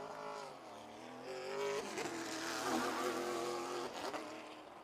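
A race car on an oval short track during a CRA All-Stars Tour race at Birch Run Speedway, engine note climbing and falling as it swells louder mid-clip, then easing off, steady and fairly close.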